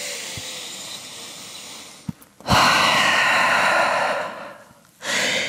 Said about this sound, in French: On prend une grande respiration en chien tête en bas.